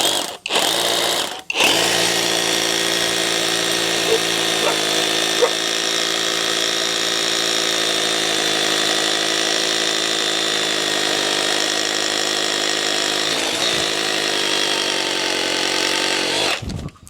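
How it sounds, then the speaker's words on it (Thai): A loud, steady Masaru 2.4-joule cordless rotary hammer with a 10 mm bit grinds continuously into concrete, with a couple of brief stops right at the start and another short dip near the end. "นี่ผมจะเจาะปูนตัวนี้เป็น เหมือนปูนตอหม้อนะ"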